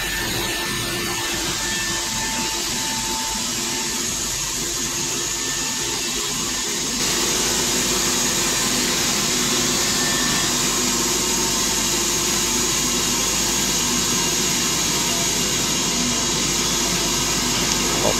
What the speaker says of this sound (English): First I cut off about an inch on the top to get the planks straight.